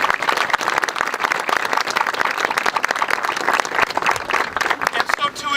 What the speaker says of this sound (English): And we should give him another round of applause.